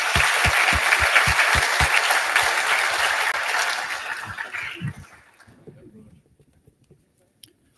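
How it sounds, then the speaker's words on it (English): A large audience at a governor's business announcement bursts into dense, sustained applause with a few sharp individual claps, which thins out and fades to near silence toward the end. "give them again another big round of applause."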